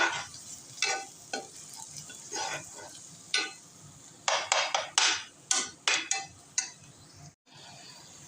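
Eggplant bharta masala fries in a pan with salt and a little sugar, a steady soft sizzle broken by repeated sharp scraping and stirring strokes that come in quick bursts, close and fairly loud, with no talking.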